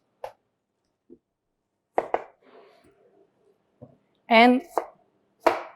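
A knife chopping onions on a board, a few sparse, sharp cuts spread out with pauses, close by, while a voice speaks briefly between them.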